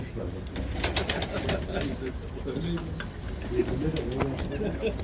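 Pigeons coo softly nearby amid rustling and fluttering, with a voice talking in the background.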